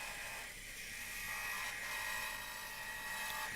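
Wood lathe spinning a bowl blank while a parting tool cuts a tenon, a continuous faint whirring hum with a rough scraping texture and no pauses.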